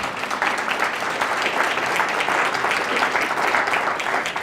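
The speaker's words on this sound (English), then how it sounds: "I want you to clap for them" Steady, dense applause from a keynote audience clapping for volunteers, loud and sustained throughout with no gaps.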